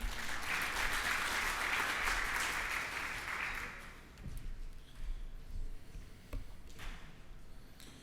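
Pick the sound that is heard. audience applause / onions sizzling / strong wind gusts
audience applause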